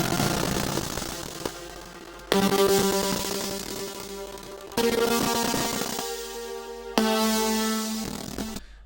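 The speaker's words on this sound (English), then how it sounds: "the last element is the counter lead, which plays in the second half of the drop" Synth counter lead in a deep house drop, bright layered chord stabs arriving in four loud sustained bursts, each decaying before the next hit, with no talking.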